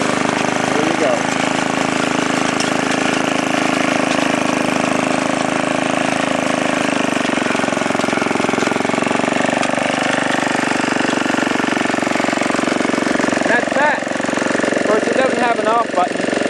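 A 1953 Sears Craftsman reel power mower runs steadily up close, its small engine putting out a loud, continuous buzzing drone, with a few brief higher-pitched sounds near the end.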